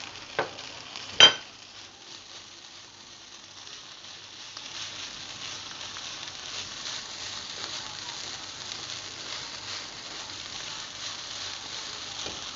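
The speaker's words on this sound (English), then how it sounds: "add some of your green onions and mix" Fried rice with green onions stir-fried over medium heat, with a couple of sharp scrapes at the start and then a steady, soft sizzle as it is mixed in the pan.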